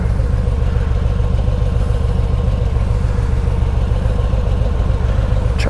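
A Harley Davidson motorcycle engine drones loud and steady while riding, a constant low throbbing rumble with some clatter and no voices.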